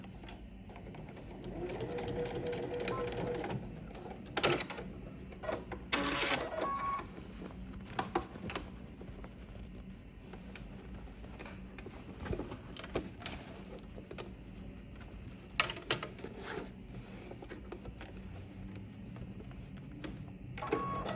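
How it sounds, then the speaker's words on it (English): A sewing machine stitches fabric for a Simplicity S3167 sewing pattern project, running in short mechanical bursts with pauses and clicks between runs, moderately close and fairly quiet, with no talking. "now we're going to head to the sewing machine and we're going to stitch."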